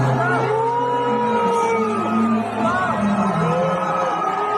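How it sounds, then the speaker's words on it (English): A large crowd booing the Israeli Eurovision contestant, a sustained loud mass of jeering voices with drawn-out bellowing tones and no break. "She's getting booed"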